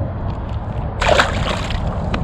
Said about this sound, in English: let's get this little sand bass back in the water